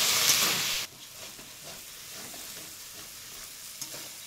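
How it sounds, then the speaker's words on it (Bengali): Potatoes sautéed with spices in a pan give a loud, close sizzle that cuts off abruptly, followed by quieter scraping and stirring sounds with a few soft clinks. "খুব ভালোভাবে মশলার সঙ্গে আলুগুলো কষিয়ে নেব"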